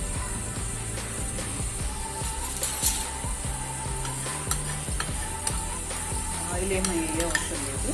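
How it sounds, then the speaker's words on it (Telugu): Whole spices dry-roasting in a small pan with no oil, a continuous dry rattling and scraping as they are stirred, with light clinks of utensil on metal, close and steady, no voices. "ఆయిల్ ఏమీ అవసరం లేదు, ఉత్త డ్రై రోస్ట్ చేసుకోవాలి."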